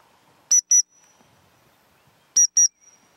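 Two pairs of sharp, shrill gundog training whistle pips, each pair a quick double blast, separated by a pause of about two seconds, loud and close over a quiet background.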